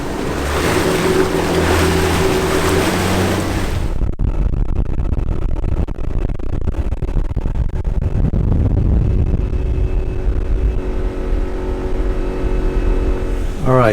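An outboard motor on a large jon boat runs steadily on open water, a continuous broadband engine and hull-slap roar with wind and splashing, loud and close throughout, shifting in tone after the first few seconds.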